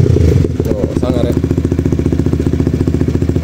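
A 2019 Honda CBR facelift sport motorcycle revs briefly, then settles into a steady, loud, close-up engine rumble with a rapid, regular pulsing throb.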